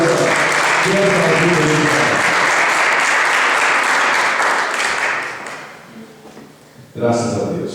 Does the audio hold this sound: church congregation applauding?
yes